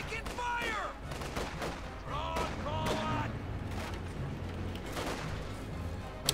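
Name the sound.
video game anti-aircraft cannon firing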